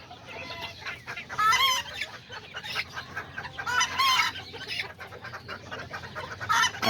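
Kikiriki and Azteca chickens cluck and squawk nearby in irregular bursts, with a couple of louder, rising calls standing out over quieter background clucking.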